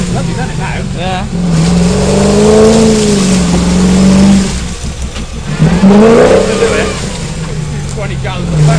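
A Land Rover Defender fitted with a V8 petrol engine revs hard outdoors in loud, rising and falling bursts, close by, with two main surges separated by a brief dip.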